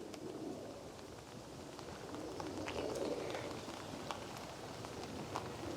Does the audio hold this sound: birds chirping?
yes